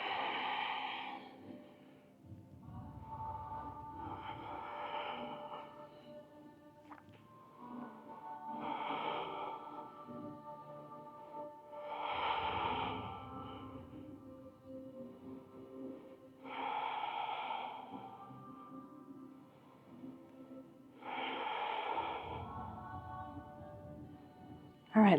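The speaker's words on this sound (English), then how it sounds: "Breathe." Slow, deep breaths drawn in and out during a Kundalini yoga practice, soft and close, recurring in a steady cycle of roughly six long breaths with quiet pauses between.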